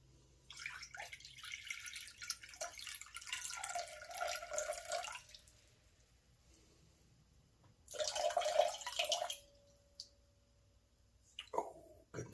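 Water poured into flour for a sourdough rye dough, a close, soft splashing and trickling stream in two bursts with a quiet pause between and a short splash at the end.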